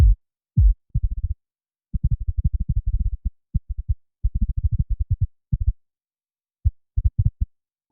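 Short, deep, rumbling electronic thumps fire in quick irregular bursts with brief silences between them, low and boomy.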